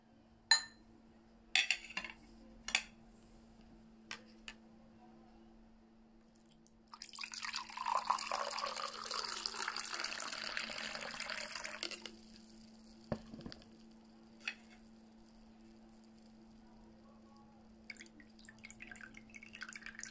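Orange or lemon juice poured into a cup for a mushroom energy drink, a steady close trickle lasting about five seconds, bracketed by faint clinks and taps of the container.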